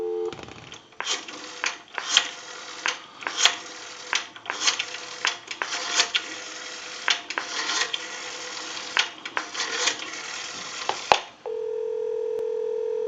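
A Western Electric 233G three-slot payphone being repaired dials a time and temperature number, a quick series of clicking keypresses and tones over a couple of seconds apiece, then a steady tone on the line at the end.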